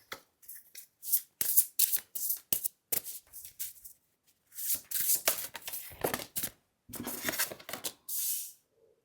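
Tarot cards shuffled by hand for a reading, a series of quick riffling bursts in uneven rhythm with brief pauses between them, close and moderately loud with no talking.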